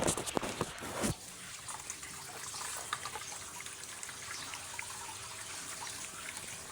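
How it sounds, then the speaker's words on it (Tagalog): A quiet, steady trickle of coconut milk dripping and dribbling from a motorized coconut grater, preceded by a brief burst of handling noise at the start. "Dito tumutulo ang gata."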